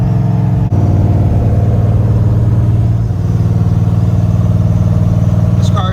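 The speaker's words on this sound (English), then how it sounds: "just fire it up and drive it up the road" A 1955 Chevy's engine runs loud and close, with a deep, steady rumble that lifts slightly in pitch partway through as the car drives off, under a faint voice.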